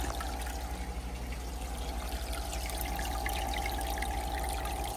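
Water overflowing from a clogged aquarium filter in a stingray tank, a steady close trickling and splashing flow over a constant low pump hum, with no talking.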